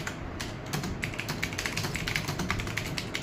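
Fingers type on a computer keyboard during a Hindi Mangal Inscript typing test, producing a fast, steady stream of close clicking keystrokes with no voices.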